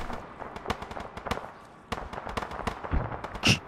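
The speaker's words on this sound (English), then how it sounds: "Please stop the bombardment on the school" Artillery bombardment in the combat video game Arma, a rapid scatter of sharp distant booms and cracks tumbling over one another, with a heavier blast near the end, loud and continuous across the moment.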